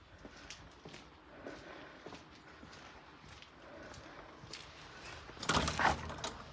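A side door into a garage swings open near the end, a short scraping, rattling sweep following several seconds of quiet shuffling and faint footsteps.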